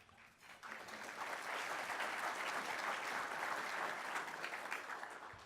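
A crowd applauds at a city address in San Marcos, the clapping swelling after a quiet start into a sustained, even wash of many hands, fairly distant and moderate in level.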